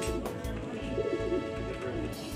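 Racing pigeon in a South Auckland loft cooing in low, repeated throaty pulses over about two seconds, close by and steady, with a faint background murmur.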